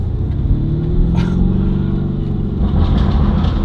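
A BMW with a B58 engine rolls by in a loud, low, close rumble that stays steady, with slight swells as it pulls along and no voices over it.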